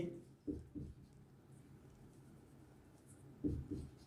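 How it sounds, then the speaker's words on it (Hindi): Chalk or marker scratches across a board during a lecture in a quiet room, a few short, faint strokes spaced apart. "तो यहाँ पर अपन लिख देंगे"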